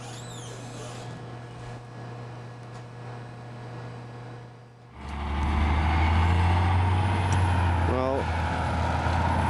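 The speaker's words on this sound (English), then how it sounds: "that's my bus going away" A large intercity bus pulls away at a Fort Stockton stop, its deep engine drone swelling loud and close after a brief lull and holding steady, with a short hiss near the end; a voice speaks briefly.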